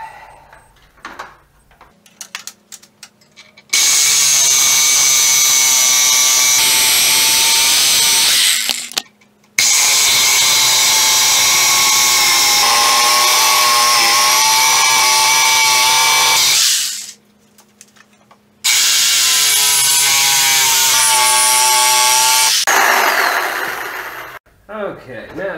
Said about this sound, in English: This is just an old flap disc that was already on here and it's just about done, so I'm just gonna burn the rest of it up on this.